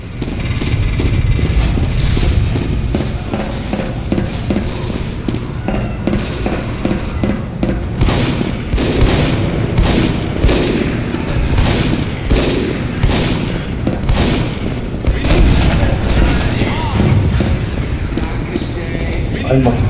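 Bomb explosions in the video game Team Fortress 2 come as repeated loud blasts and crackling bursts over a constant dense din of battle, close and heavy for the whole stretch.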